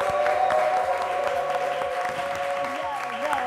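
Studio audience applause on a French daytime game show, a dense steady clatter of many hands held at an even level throughout, with a sustained musical tone and a voice running underneath.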